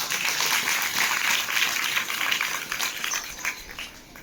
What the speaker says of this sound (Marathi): तुमच्यासाठी एका टाळ्या घालतो